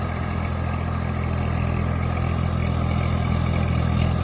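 A tractor engine working in a muddy rice paddy, sinking deep into the mud, runs with a steady, loud low rumble close by, droning continuously without pause or voices.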